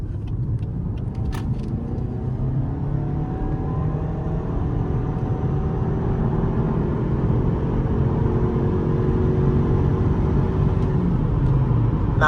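A 2019 Lexus ES300h hybrid with a 4-cylinder engine cruises on the highway, giving a steady, continuous low road rumble and tire drone from inside the cabin, with no talk.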